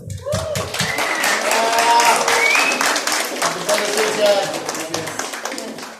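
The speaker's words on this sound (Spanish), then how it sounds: "reciban con un fuerte aplauso a Alexander" Audience applause welcomes a speaker named Alexander onstage at a developer tech talk in Mexico, a dense, steady burst of many hands clapping at close range, filling the whole stretch with a few voices mixed in.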